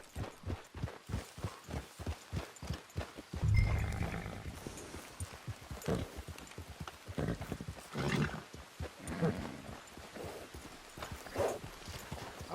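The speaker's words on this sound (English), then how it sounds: "It's your horse." Horse hooves clip-clop at a steady walking rhythm in Red Dead Redemption 2, moderately close, with a brief louder rustle and snort partway through before the hoofbeats carry on.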